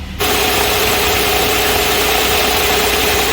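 A car engine runs at a raised fast idle around 1400 rpm, a steady, continuous close-up drone that holds even after it starts, with no talking.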